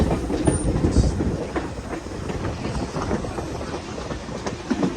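Southern Railway excursion railroad cars, including a flat car, roll steadily past on the track with rhythmic clickety-clack of wheels over rail joints, a continuous rumbling close by.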